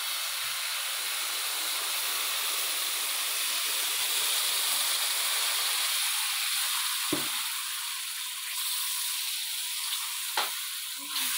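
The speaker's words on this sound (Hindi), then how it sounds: "अब इसमें 2 कप पानी डालते हैं।" Water poured into a pan of roasted semolina for halwa sets off a loud, continuous hissing sizzle that gradually settles, with a few faint clinks near the end.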